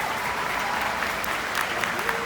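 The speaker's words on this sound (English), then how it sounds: "She deserves applause." An audience applauds, a dense, steady patter of many hands clapping at once, holding even from start to finish.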